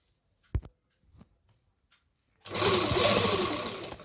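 A sewing machine runs in a fast continuous whir, stitching fabric with elastic inside, starting after a few faint clicks and soft handling noises and continuing loud to the end.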